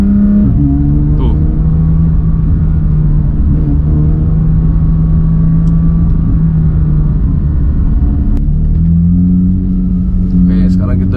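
A Porsche 911 GT3 (992) with a naturally aspirated engine, heard from inside in track mode, droning steadily at high revs, dropping briefly, then surging again, loud and close.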